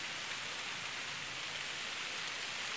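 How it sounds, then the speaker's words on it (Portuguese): Rain falls on the ground in Quixeramobim during a dark, stormy morning, a steady even hiss of drops spread across the surface, moderately quiet and continuous with no voices. "Tá começando a chover aqui, ó."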